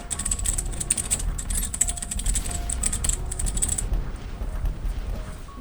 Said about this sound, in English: I just typed free.